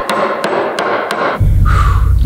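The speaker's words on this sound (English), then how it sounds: "I'm gonna see if I can actually chip out some of the wood here" A dull chisel struck with a hammer to chip out wood during a guillotine build: four sharp, evenly spaced knocks, loud and close, followed by a louder low rumbling noise.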